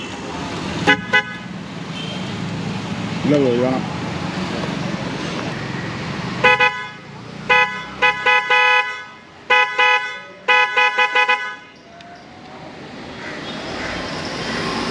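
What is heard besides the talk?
aftermarket car horn being tested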